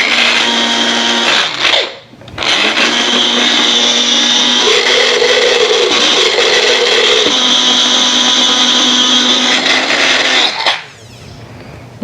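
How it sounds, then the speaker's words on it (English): A blender grinds dried zucchini into flour with a loud, steady motor whir that starts after a brief pulse, holds for about eight seconds with a shifting grinding tone, then winds down. "And blend it up."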